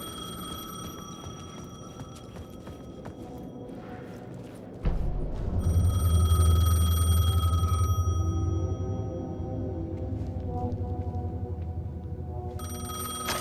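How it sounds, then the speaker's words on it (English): In Alan Wake 2, a payphone rings with a shrill, repeating electronic tone. A heavy low rumble swells midway and the ringing carries on over it. "The payphone was ringing."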